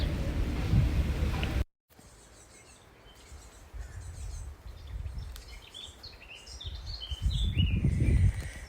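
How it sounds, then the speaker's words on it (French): Birds sing outdoors in Wales, faint chirps and tweets scattered over steady wind rumble, with a brief dropout early on and the wind growing louder toward the end. "Petit bruit sonore d'oiseaux depuis le pays de Galles."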